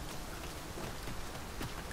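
Rain falls steadily in Dragon's Dogma 2, a dense, even hiss of drops on surfaces with a few louder splashes, heard alone without talk.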